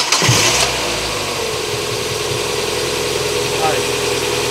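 A Mazda Miata engine cranks and catches with a sharp burst, then settles into a steady, even idle close by.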